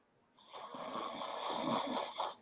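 A man snoring while asleep in a basement, one long, loud, rasping snore that swells and rumbles close by, with no talking.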